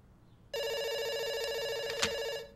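Loud electronic phone ringing in a video game starts after a brief quiet moment and continues steadily for about two seconds with a small click near the end.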